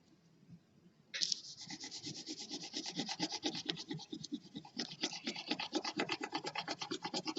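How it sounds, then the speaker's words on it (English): A crayon rubs over paper laid on a textured rubbing plate. After a quiet start, rapid rhythmic scratchy strokes run back and forth, close and steady, with no voices. "you're going to continue using crayons and rubbing over your whole picture so that the whole picture shows up"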